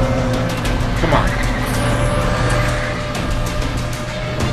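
A Lamborghini and a BMW race in Need for Speed The Run, loud continuous engine roar with a steady drone and road noise, close and unbroken, without talk.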